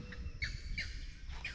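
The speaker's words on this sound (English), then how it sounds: "Bird interrupted me." Outdoors in a remote spot, a bird gives a few short chirping calls at a moderate distance over steady background ambience.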